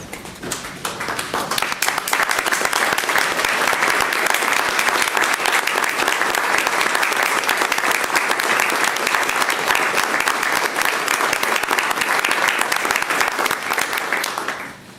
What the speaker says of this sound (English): If I can ask for a stand-up round of applause.